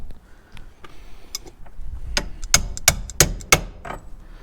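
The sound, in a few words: tapping a bearing into place with a socket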